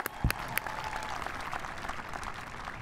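Fairly faint applause from a university commencement audience at Cal State Fullerton, opening with a couple of sharp close claps before settling into a soft, distant, steady patter.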